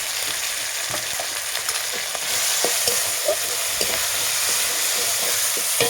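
Chili paste sizzles in a frying pan of oil while poultry curry is cooked, a steady loud frying hiss broken by soft scraping stirs that grow a little louder partway through, with no voices.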